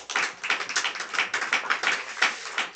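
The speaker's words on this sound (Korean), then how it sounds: "우리 박수 한번 하시겠습니다" A short burst of clapping from a small group at a church prayer breakfast, quick irregular claps close by, with no talking.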